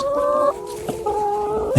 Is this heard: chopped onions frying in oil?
no